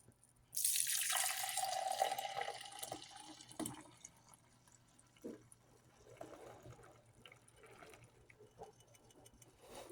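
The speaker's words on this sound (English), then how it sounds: "The easiest way to transfer this and to check that you don't have any undissolved particles is to dump it into the 2-cup measuring cup" Dissolved laundry soap solution pours from a container into a 2-cup measuring cup, a loud splashing gush for about three seconds that fades into faint drips and small trickles.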